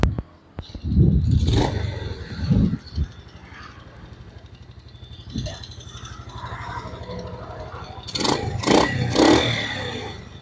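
A Yamaha Vega R motorcycle engine being started after piston work, with clattering starter noise and bursts of revving, then settling into a steady running idle with scraping and handling sounds nearby.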